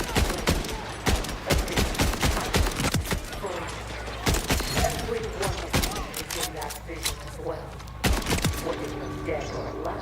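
Borderlands gunfire, rapid bursts of sharp shots cracking in clusters across the whole stretch with brief gaps, while a person talks over the shooting.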